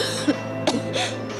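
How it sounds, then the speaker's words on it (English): A character's death cough from the video game Odin Sphere Leifthrasir, two or three short rasping coughs and throat-clearing bursts over a faint sustained background tone. "that's a good death cough right there"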